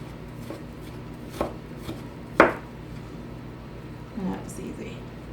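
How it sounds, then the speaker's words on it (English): A knife chops ginger on a board with a few sparse, sharp knocks, one louder than the rest, close by over low background noise. "Let's chop the ginger really quick."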